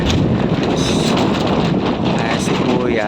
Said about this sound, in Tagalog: So ayan, lakas ng hangin.